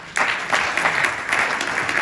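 A round of applause breaks out at an awards gala, starting abruptly and carrying on as lively, close clapping with distinct individual hand claps.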